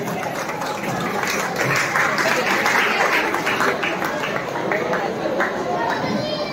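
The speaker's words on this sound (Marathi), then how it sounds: "जोरदार टाळ्या वाजवून आपण या ठिकाणी त्यांचं स्वागत करायचं आहे" An audience at a cultural programme in Dadar, Mumbai, claps to welcome a guest: loud, dense, continuous applause that fills the whole stretch, with crowd murmur underneath.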